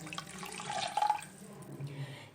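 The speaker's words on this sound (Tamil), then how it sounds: "2 கப் அளவுக்கு தண்ணி ஊற்றிட்டு" About two cups of water are poured into a soup pot, giving a short, moderately loud splashing gush that swells and then fades out.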